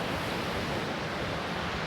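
Atlantic Ocean surf breaking on the coast below a field, a steady broadband wash of waves mixed with wind noise, continuous and fairly loud with no talk.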